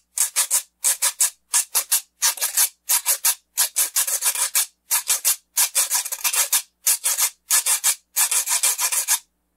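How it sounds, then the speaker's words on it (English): A Mexican güiro scraped with a stick gives repeated short raspy strokes, mostly in quick pairs and triplets, close and clear with brief silences between groups and no talking. "And the güiro sounds like this."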